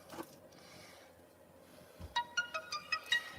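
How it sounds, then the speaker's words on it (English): After a quiet stretch, a chiming notification alert rings out as a quick series of bright melodic tones, clear and close in an indoor live-stream setting, with no talking over it. "Hey, did you hear that? That's the notifications."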